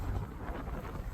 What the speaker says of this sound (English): This wind is doing the most.